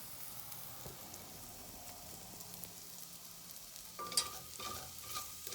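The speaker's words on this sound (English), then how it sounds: "Looking pretty good, sizzling pretty good." Kitchari sizzles quietly and steadily in a pan. Near the end come a few louder clinks and scrapes of stirring. No one is talking.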